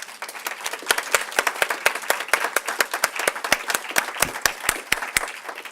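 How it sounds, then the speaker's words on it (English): Conference audience at a credit visibility symposium applauding the authors of a research report: steady, dense clapping from a roomful of people, fairly close and sustained throughout, with no voices over it. "at least the folks in the room can applaud you"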